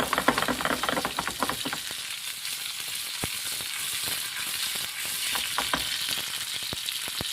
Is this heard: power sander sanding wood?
no